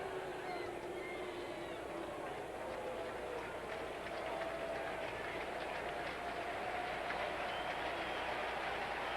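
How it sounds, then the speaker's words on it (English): A ballpark crowd at a Rockies versus Cardinals baseball game applauds Albert Pujols, heard as a distant, fairly faint and sustained wash of clapping and crowd noise spread across the stadium. "the applause you hear, not for Cairo coming up, but for Albert Pujols, who has excited this crowd yet again"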